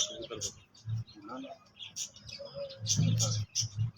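Pigeons from a breeding pair in a loft call with soft low coos and brief chirps, moderately close, with other birds twittering faintly around them and some background activity.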